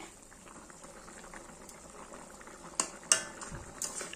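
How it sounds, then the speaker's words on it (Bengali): Ghugni gravy made with peas and potatoes bubbles softly in a pot, with faint continuous simmering and a few sharp clinks of a utensil near the end. "জলটা ফুটে একটু কমে গেছে, মানে ঝোলটা ফুটে গেছে"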